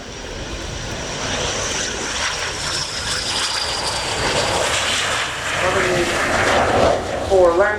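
A Swedish Air Force Saab JAS 39C Gripen fighter jet roars through a flying display at the RIAT air show at Fairford, its engine noise loud and sustained, swelling toward the end, with a voice talking over it.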